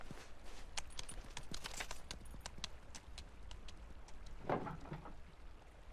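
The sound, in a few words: horse hooves walking through snow, from video game Pentiment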